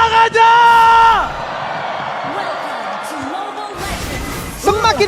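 Esports arena crowd at a mobile game playoff in a velodrome, whooping and yelling in loud bursts at the start and end, with a caster talking over a murmuring crowd in between.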